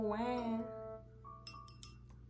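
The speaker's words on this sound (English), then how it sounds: "Got my wine glass." A wine glass clinks several times in a row with short, bright rings, heard after a brief vocal sound and over a faint steady room hum.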